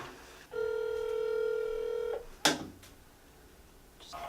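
A telephone call being dialed: a steady tone sounds for under two seconds, then a sharp click follows, with quiet background hiss and no talking.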